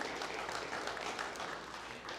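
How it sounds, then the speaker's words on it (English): Applause from an audience at a 1 Million Cups entrepreneur meeting in Brownsville, Texas, a steady, fairly faint wash of clapping that continues throughout with no pauses. "so let's clap for them"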